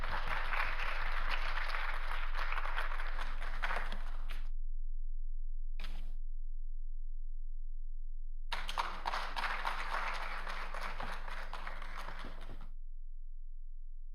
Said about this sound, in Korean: 나오실 때 박수 부탁드리겠습니다.